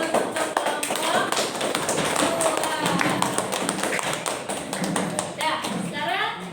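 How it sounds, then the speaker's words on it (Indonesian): A group in a classroom session gets applause: dense, continuous hand clapping fills the room from start to finish, with voices mixed in. "beri aplaus untuk kelompok"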